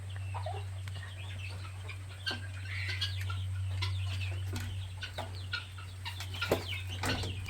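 Small flock of quails kept on a permaculture homestead, making short chirping and clucking calls scattered irregularly over a steady low hum, fairly quiet and close.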